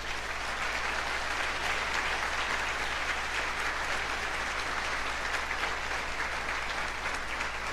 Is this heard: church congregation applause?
yes